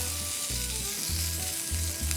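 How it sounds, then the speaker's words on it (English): Asparagus sizzles in a hot pan with a steady crackling hiss, close up, with faint low rhythmic thumps underneath. "That's what you wanna hear, is that sizzle."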